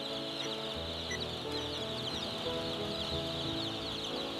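Young chicks in an automated hatchery conveyor system, a dense continuous chorus of peeping and clucking fowl over steady machinery hum, loud and unbroken throughout.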